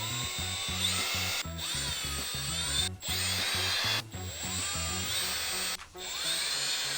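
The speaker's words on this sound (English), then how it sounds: "I'm going to go ahead and use a drill to take them off the rest of the way" A power drill whirs in repeated short bursts with brief pauses between them, close and steady, over a low rhythmic hum, as it removes screws from a Traxxas Sledge RC truck.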